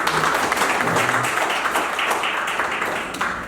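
Loud clapping from an audience at a regular general meeting of the Ansan tourism association, a close, busy burst of hands that thins and fades slightly toward the end.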